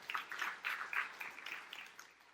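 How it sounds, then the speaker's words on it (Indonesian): A church congregation claps during a sermon, with several rounds of scattered, fairly soft applause heard from within the room and no talking over it. "Tepuk tangan yang meriah untuk kemuliaan Tuhan."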